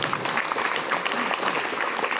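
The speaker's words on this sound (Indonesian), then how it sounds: "Tepuk tangan." Audience applause at an Islamic religious sermon gathering in Baubau, Indonesia, a dense, steady wash of clapping from a crowd that sustains evenly throughout without any voices over it.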